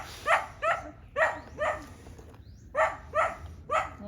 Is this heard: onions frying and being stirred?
no